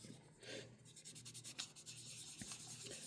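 Wet sanding of an HO scale locomotive's fogged window with 6000-grit sandpaper gives soft, faint, rhythmic rubbing strokes in quick succession, close up and quiet.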